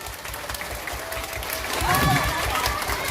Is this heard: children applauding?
yes